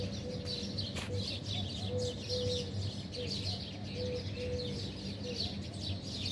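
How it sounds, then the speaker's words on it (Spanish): Birds chirp and call repeatedly in the early morning along a street in Al Saad, Doha, Qatar, with cooing pigeons or doves mixed in over a steady low hum of city background. "El sonido de las aves bien temprano en la mañana."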